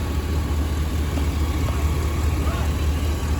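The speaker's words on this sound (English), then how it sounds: "My phone does pick up small engine and valve train noise" A 2003 Chevrolet Silverado 2500HD 6.0L truck engine idles with a steady low rumble and a faint rapid valve-train ticking on top, constant and close, with muffled voices in the background.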